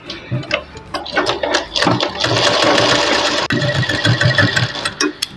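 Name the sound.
sewing machine stitching blouse lining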